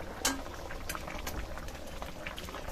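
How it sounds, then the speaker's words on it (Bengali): A thin fish curry with raw mango and pumpkin simmers in a pot, bubbling softly and quietly with a few small pops and no talking. "মাছ দিয়ে মিনিট খানেক ফুটিয়ে নিয়েছি"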